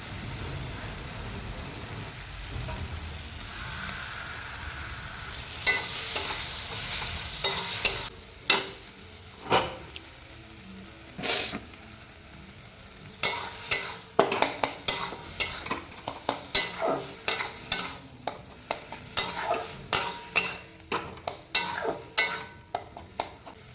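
Mashed eggplant stirred as it fries in a pan for a Bengali begun bharta: a steady close sizzle under repeated spoon scrapes and taps that grow frequent and sharp toward the end, with no talk.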